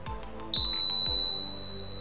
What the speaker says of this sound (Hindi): ये बजर हमारा ऑन हो गया।